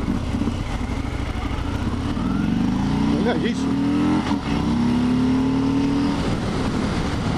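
Harley-Davidson Fat Bob 2020 motorcycle accelerating on an open road, engine note rising steadily through several seconds, loud and close with wind roar, a voice briefly speaking over it.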